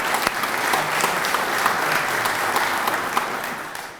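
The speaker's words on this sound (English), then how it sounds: "let's really give Lynn a big round of applause for the work that he's done" An audience at a university Hall of Fame induction ceremony breaks into a big round of applause, steady and close, swelling quickly and tapering off near the end.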